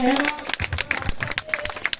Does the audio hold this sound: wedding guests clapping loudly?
yes